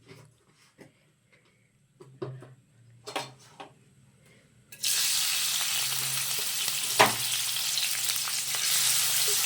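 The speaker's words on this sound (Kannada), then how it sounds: "ಈರುಳ್ಳಿ ಚೆನ್ನಾಗಿ ಫ್ರೈ ಆಗಲಿ ಸ್ವಲ್ಪ" After a few quiet clinks and taps, onions drop into hot oil in a pan and burst into a loud, steady sizzle that continues to the end, with one sharp knock partway through.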